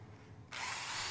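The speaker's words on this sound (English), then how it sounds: "All we have to really do is drill the holes down at a slightly different angle" A power drill bores holes through wooden skirting boards at an angle, its whine starting abruptly halfway through after a low background hum and holding steady, fairly close and quiet.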